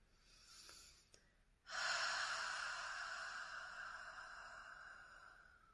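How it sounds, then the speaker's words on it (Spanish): Slow, deep breathing during a guided relaxation: a soft inhale, then a long, loud exhale through the mouth that lingers for several seconds, close and alone. "Vas a inhalar largo y profundo y vas a exhalar por la boca."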